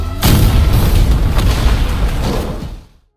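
A massive nuclear bomb explosion in an animated series booms suddenly and roars with deep rumbling debris for nearly three seconds before cutting off abruptly.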